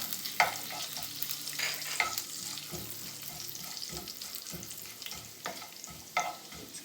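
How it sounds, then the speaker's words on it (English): Cumin and fennel seeds frying in hot oil give a soft, continuous sizzle with crackles, broken by scraping stirs from a spoon in the pan, close and fairly quiet. "It's already hot, so I'm just adding the jeera and the fennel"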